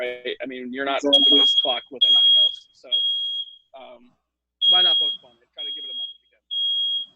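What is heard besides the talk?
smoke alarm beeping, set off by cooking bacon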